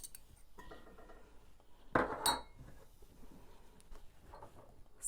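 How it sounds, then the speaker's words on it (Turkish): A metal soup pot clanks and rattles onto a stove in a couple of sharp knocks, close by in an otherwise quiet kitchen. "Ocağa tencereyi alalım."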